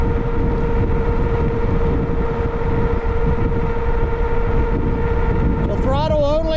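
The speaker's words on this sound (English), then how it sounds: "Let me go ahead and throttle it now. I'm just going to throttle." A JASION X-Hunter folding e-bike on a winter ride runs on throttle alone, giving a steady electric motor whine under continuous loud wind rush, with a brief rising tonal warble near the end.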